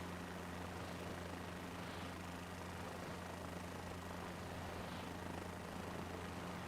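A helicopter hovers low in Microsoft Flight Simulator 2024, giving a steady droning hum with a constant rotor and engine tone, unchanging and continuous throughout.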